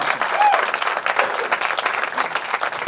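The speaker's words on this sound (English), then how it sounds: "Give him a round of applause." A comedy club audience at the Laugh Factory breaks into steady applause for a comedian. The clapping is full and continuous, moderately close, with a brief whistle and crowd murmur mixed in.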